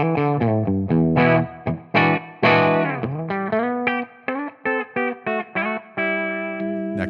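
Electric guitar on the bridge pickup played through a Tonex power amp capture at the second gain level, a run of distorted notes and chords with slight breakup, some picked in quick bursts and others ringing out, alone and close.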